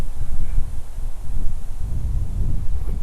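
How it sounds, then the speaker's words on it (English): Strong wind blusters against the microphone on a clear day overlooking Seoul, Korea, in low, rumbling gusts that rise and fall repeatedly, loud and close, with no talking. "So super windy today."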